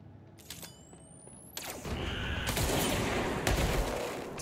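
A charge gun fired in the video game Control, opening with a rising whine and then a heavy, sustained roaring burst that swells and rumbles for several seconds.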